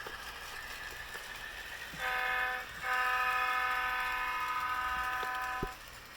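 Horn on a model train running on a small DCC rug layout, sounding two steady, harmonically rich toots in quick succession, the second held for about three seconds, loud and close over a faint running hum.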